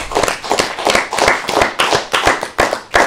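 Hand clapping for a musician at a dinner in Chambéry, close and fairly loud, with individual claps distinct in an uneven rhythm over about three seconds and no voices.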